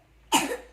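One short, close cough breaks sharply out of near silence and fades within half a second.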